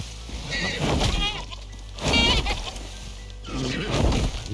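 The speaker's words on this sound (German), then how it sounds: "Das war eine Gemse." A chamois in the video game Icarus gives repeated bleats in three bursts, close and clear, over a background of noise.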